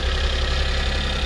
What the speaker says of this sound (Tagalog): Ayan yung makina natin. Napaka smooth ng andar.